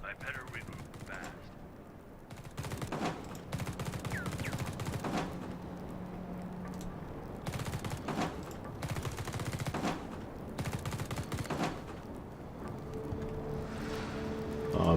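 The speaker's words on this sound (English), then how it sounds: "Let's shoot some supply crates." Bursts of automatic gunfire in The Red Solstice video game as supply crates are shot, rapid clattering volleys separated by short pauses, loud and close, with some game tones between the bursts.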